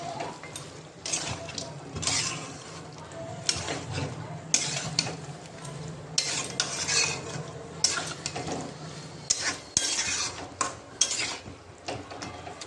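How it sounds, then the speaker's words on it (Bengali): Chicken meat being mixed with salt in a metal pot, with steady stirring scrapes and clinks of a spoon against the vessel, close up and fairly continuous with no talk. "আমি নুনটা দিয়ে এটার সঙ্গে আর কি মিশিয়ে নেবো মাংসটার সাথে"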